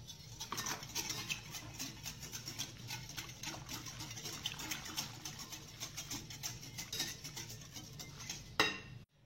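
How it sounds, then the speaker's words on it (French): Melted butter being mixed in a mixing bowl for bread dough, soft continuous stirring with clinking and scraping of a utensil against the bowl, quiet and close, ending in a sharper knock. "Je vais le mettre dans mon saladier et je vais continuer à mélanger"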